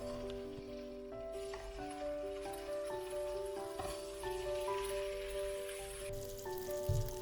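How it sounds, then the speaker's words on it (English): Salmon fillets crackle and sizzle in olive oil in a hot pan, with a steady broadband hiss and scattered pops lasting throughout, while soft background music plays underneath. "I don't know whether you can hear the drizzling sound."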